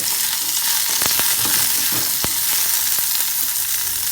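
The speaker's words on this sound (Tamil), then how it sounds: "இப்போ வெங்காயம் வதங்கிச்சு" Onions sautéing in a pan for cauliflower white kuruma, a steady loud sizzle throughout with a few sharp scrapes and taps of a stirring spoon.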